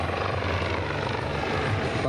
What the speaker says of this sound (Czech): vhodnost toho vrtulníku pro vlastně vysoké manévry, souvraty